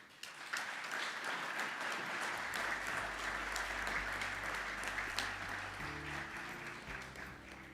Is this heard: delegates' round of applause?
yes